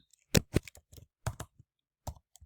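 Short bursts of typing on a computer keyboard, a handful of crisp, close key clicks in irregular clusters separated by brief silences.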